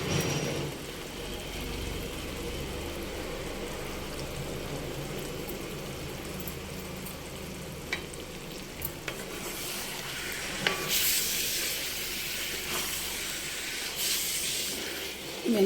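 Chicken curry with fenugreek leaves cooking in a pan, giving a steady close sizzle and hiss with stirring scrapes and a brief louder spitting burst near the end.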